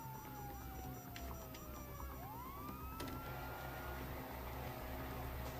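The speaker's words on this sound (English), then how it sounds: "you hear that? Sirens." A police siren in the video game Grand Theft Auto 5 wails and yelps, rising and falling in pitch, faint and somewhat distant over a low steady background hum.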